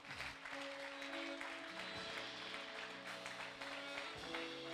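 Congregation applause during a church service, soft and continuous clapping under sustained keyboard chords, fairly distant and low in level.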